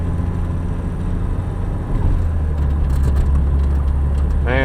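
A 1982 VW Rabbit diesel engine droning steadily inside the car while driving, a loud low rumble with a slight shift in tone as it goes into fifth gear, road noise constant throughout.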